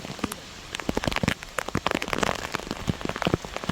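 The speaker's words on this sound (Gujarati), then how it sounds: "જો ફૂલ વરસાદ ચાલુ થયો." Heavy downpour on a Gujarati farm during a storm, with dense, continuous drumming of raindrops on surfaces and sharp splashy hits throughout, close and loud.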